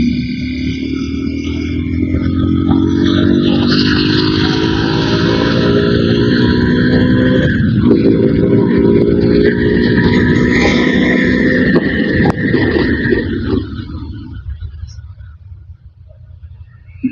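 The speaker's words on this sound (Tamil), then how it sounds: "நம்ம லைட்டா இழுத்து பார்ப்போம் வண்டி எப்படி போகுது அப்படின்னு சொல்லிட்டு." Suzuki Gixxer SF250, a six-speed sport motorcycle, pulling hard on the road in fifth gear, its engine note rising steadily and loud for about thirteen seconds before easing off, with wind noise throughout.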